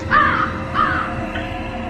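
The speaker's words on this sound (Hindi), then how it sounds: "रात के 2 बजे किसी कौवे का काव काव करना, वो भी एक होटल के कमरे के ठीक बाहर" A crow caws at night outside a hotel room, two or three harsh calls close by and fairly loud, spaced out over a low background hum.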